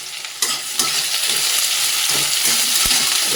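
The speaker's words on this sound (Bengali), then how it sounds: "একটু ভালো করে আদা রসুন কাঁচা লঙ্কা ভাজা ভাজা হয়ে গেছে" Ginger, garlic, green chilli and onion, with the white part of spring onion, fry in a pan with a loud, steady sizzle, broken by a few clinks of stirring, no voices.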